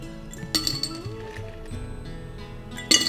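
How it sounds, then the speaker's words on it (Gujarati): Ice cubes dropped into a glass iced tea decanter, with bright clinks and clatters at the start and again at the end, separated by quieter rattling and a little liquid movement. "પૂરું આઈસથી ભરી લેવાનું છે."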